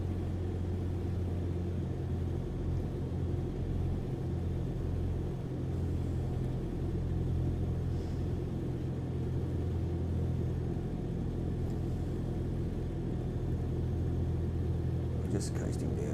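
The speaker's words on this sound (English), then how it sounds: "Just coasting down on idle once we lose a little bit of altitude" Light aircraft engine idling in a descent over Tasmania, a steady low droning hum that holds evenly throughout at moderate level, with a faint voice over it.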